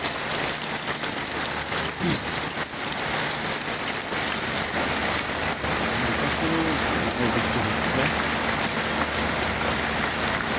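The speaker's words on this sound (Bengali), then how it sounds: "দেখেন বন্ধুরা খুব বৃষ্টি হচ্ছে খুব অনেক বৃষ্টি" Heavy rain pours down steadily and loudly across the whole stretch, a dense broadband hiss of drops on surfaces with faint low tones underneath.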